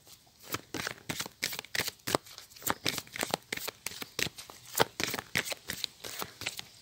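Tarot cards being shuffled and drawn at close range, a rhythmic run of papery riffles and slaps repeating about twice a second, fairly loud and with no voices.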